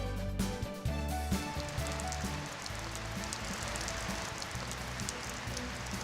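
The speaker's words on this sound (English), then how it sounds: "How relaxing is the rain in Midland?" Steady rain falls in Midland, making a dense, even patter and hiss that runs continuously without pause, with no voices over it.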